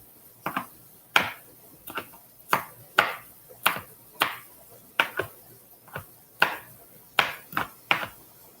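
A knife chopping jalapeno peppers on a cutting board while canning vegan chili, with crisp, evenly spaced chops repeating at a steady rhythm, close and clear with quiet gaps between strokes.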